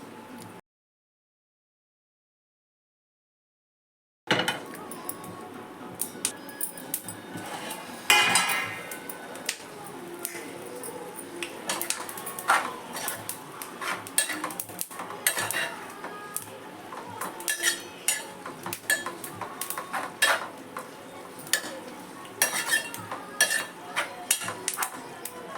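Peanuts roast in a pan on the stove during Marathi home cooking, with steady clinks and scrapes of a spoon stirring against metal, close and continuous after a brief silent start.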